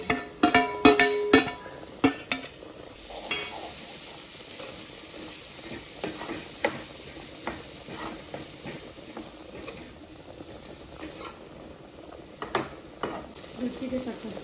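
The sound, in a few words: capsicum frying in oil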